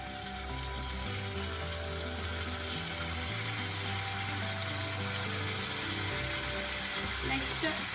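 Potatoes frying in a pan for honey chili potato, a steady broadband sizzle running the whole time with a low hum underneath, no voices.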